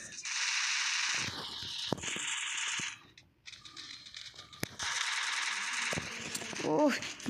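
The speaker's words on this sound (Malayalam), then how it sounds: "ഏത് സൈഡിൽ നിന്നൊക്കെയാണോ വെടി വെക്കണാവോ?" Rapid bursts of Free Fire gunfire with sharp individual cracks, pausing briefly in the middle before another volley and a few scattered shots.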